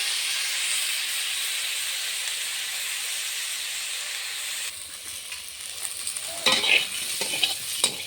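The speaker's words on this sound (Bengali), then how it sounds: "ভালো করে ভেজে নেব লাল লাল করে।" Pointed gourd slices fry with salt in a pan, giving a steady, loud, close sizzle that thins out partway through into clinks and scrapes of stirring.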